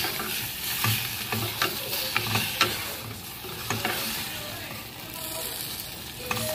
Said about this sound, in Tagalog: Pinakuluan sa tubig hanggang sa magmantika.